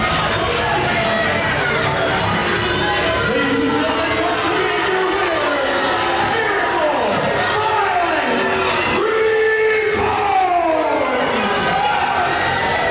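Pro wrestling crowd at a Central States Wrestling steel-cage show roars, shouts and jeers steadily as a hot-headed wrestler argues with fans, with a commentator talking over the dense arena noise throughout.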